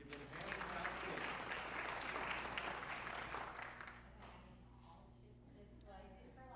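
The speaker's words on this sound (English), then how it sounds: "If we could just give them a hand and clap for them." Audience at a December meeting applauding, a dense wash of clapping for the first four seconds that thins out and fades, with a low steady hum beneath.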